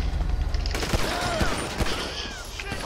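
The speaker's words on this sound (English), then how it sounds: "shots fired, shots fired" AK rifle fire in the LSPDFR police game, a fast rattling fusillade of close, loud shots with sharp individual cracks spread across the moment, over background game noise and a voice speaking.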